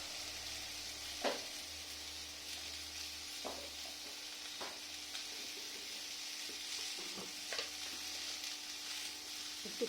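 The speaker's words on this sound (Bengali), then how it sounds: "সবগুলো ভালো করে ভেজে নেব মশলাগুলো।" Ground turmeric, salt and other spices sizzle in hot oil in a pan, a soft steady frying hiss broken by occasional scrapes and knocks of a stirring spoon.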